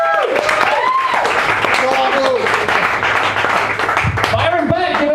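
Audience applause and cheering for a comedian at a stand-up comedy show, a dense, steady wash of clapping throughout, with voices calling out over it.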